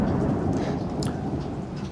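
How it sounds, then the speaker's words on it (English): A deep rumble of thunder from the Foundry VTT Material Keys module rolls under steady rain, loud and close. "well, get the thunder in this case,"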